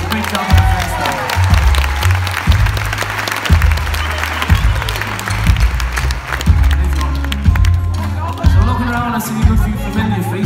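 A concert audience of country-music fans at a show claps and cheers loudly, with whoops and crowd babble rising over the applause while low, thumping beats pulse underneath.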